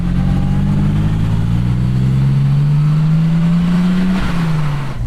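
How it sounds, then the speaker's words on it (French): BMW E30 320i Edition S fitted with a Hartge engine revving loudly up close, a rising gritty engine note climbing steadily before dropping off near the end, alone with no talk. "Qu'est-ce qu'on l'entend le moulin, c'est dingue."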